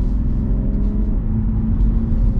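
A 2021 BMW M340d Touring diesel on the move, giving a steady low engine and road rumble throughout with no voices.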